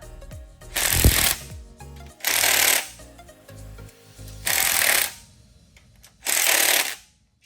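Power tool driving bolts on a Trailblazer SS engine part, four loud whirring bursts of about a second each separated by pauses with small mechanical clatter.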